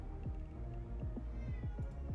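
Cat meowing repeatedly in a rhythmic series of drawn-out, howling cries, faint and alone over a steady low background hum.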